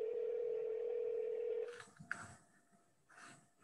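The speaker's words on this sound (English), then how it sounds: "I hear somebody's phone." A steady telephone dial tone hums for about a second and a half in a meeting room, then cuts off, leaving faint room noise and a few soft clicks.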